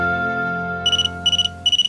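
A telephone rings in three short trilling bursts, evenly spaced and fairly bright, entering over a sustained musical chord that fades away underneath.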